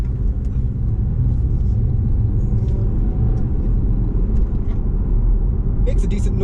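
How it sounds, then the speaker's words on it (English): Steady low diesel rumble from a BMW 320d xDrive G20 engine, heard from inside the car as a continuous drone with faint ticks and clicks above it. "Makes a decent noise for a diesel, mind you."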